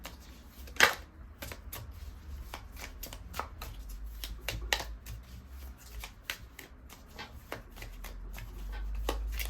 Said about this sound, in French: Je vais quand même en retirer une autre, juste pour conclure ce tirage du tarot.